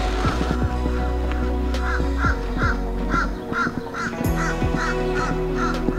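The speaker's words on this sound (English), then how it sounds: "You hear the birds chirping." Crows caw repeatedly at a seaside campground by the water, harsh calls arriving in a steady series of short bursts, fairly close and clear over a constant low background hum.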